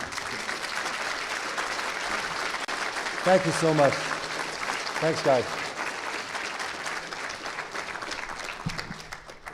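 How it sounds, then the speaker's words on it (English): Applause from a conference audience for the panel speakers fills the hall with a dense, steady clatter of hands, while a voice speaks briefly over it near the middle. "big applause for all these gentlemen"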